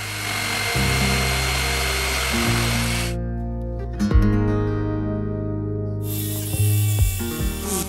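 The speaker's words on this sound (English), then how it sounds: "And then our jigsaw to cut out the rest of the handle." Jigsaw cuts out the handle of a wooden charcuterie board, a loud continuous buzzing rasp that shifts pitch as the blade works, pausing briefly midway before resuming, with no speech.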